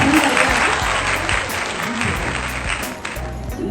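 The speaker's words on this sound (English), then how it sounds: "I welcome you on the stage with a huge round of applause" Applause welcomes a guest onto the stage at a Diwali Mela exhibition in Dubai, with continuous clapping from a crowd mixed with music and voices underneath.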